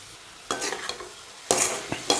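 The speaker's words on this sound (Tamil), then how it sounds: "அதையும் சேர்த்து நல்லா மிக்ஸ் பண்ணி விட்றேன்." Boiled cauliflower is stirred into masala in a hot pan, with a soft sizzle broken by several sharp scraping strokes of a spoon.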